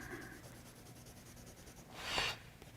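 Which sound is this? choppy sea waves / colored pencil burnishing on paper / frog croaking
colored pencil burnishing on paper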